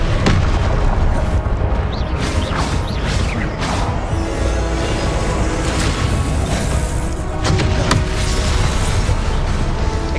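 Confringo explosive spells go off in rapid succession during a Hogwarts Legacy duel, a dense, continuous barrage of loud booms, crashes and bursts with sharp whooshing streaks layered over a heavy rumble.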